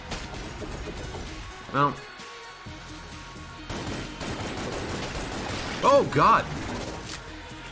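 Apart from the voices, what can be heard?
katana bullets sound effect in the video game Enter the Gungeon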